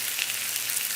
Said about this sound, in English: we're frying these together.